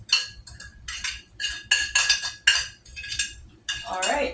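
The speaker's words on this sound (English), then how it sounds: "let me make sure I scrape everything in the pot" A metal spoon scrapes and clinks against a cooking pot while cooked chickpeas are gathered out, in a run of repeated bright scraping strokes at close range, with short pauses between them.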